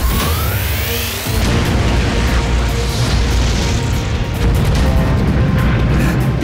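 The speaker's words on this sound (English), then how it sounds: "Avon's flame attack is moving up through the Phantom Spider!" A cartoon flame attack, the Fire Rope Turbo blaze, erupts as a loud, sustained roaring burst of fire and booming rumble that opens with a rising whoosh and continues unbroken to the end.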